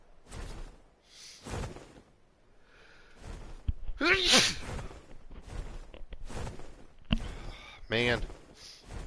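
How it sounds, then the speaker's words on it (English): A man has a sneezing fit, with several sharp sneezes and gasps spread irregularly through the stretch, close and loud, mixed with his own muttered talk between them. "Oh, no, I'm having a sneezing fit."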